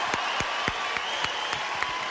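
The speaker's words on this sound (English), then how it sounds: "how about another round of applause for Supreme Master Ching Hai?" Audience applause for Supreme Master Ching Hai at a peace-through-music concert: a dense wash of crowd clapping, moderately loud and sustained, with a few sharper individual claps standing out near the front.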